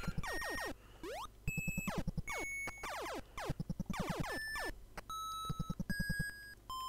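Dense, bright electronic beeping and chirping from the NES game Metroid, with rapid rising and falling pitch sweeps, steady tones and stacked pulsing bleeps running continuously and loudly with no talk.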